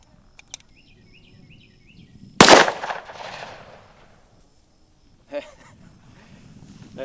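A single sharp rifle shot at an outdoor range stands out, loud and close, with a fainter follow-up crack a few seconds later, against quiet background and birdsong.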